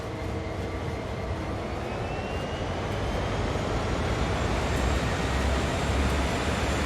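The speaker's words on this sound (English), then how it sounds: "I just want to give the dynamic a good thrash so you guys can hear the fans and the engine go absolutely wild." SD40 and GP38 diesel locomotives at Cumberland Yard in Train Sim World, with dynamic brake fans and engine roaring loudly and steadily throughout, a dense continuous rumble with a slowly rising whine.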